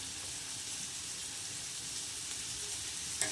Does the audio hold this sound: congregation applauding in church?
no